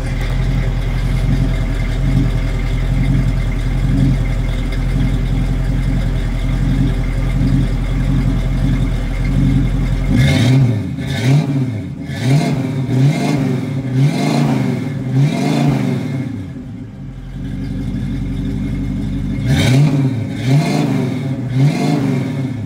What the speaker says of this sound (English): Nice tone from the dual exhaust.